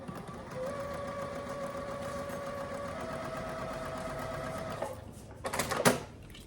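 Sewing machine stitching a quilt corner, a steady whirring run with tonal motor lines for about five seconds, then stopping with a few louder clicks and rustles of fabric handling.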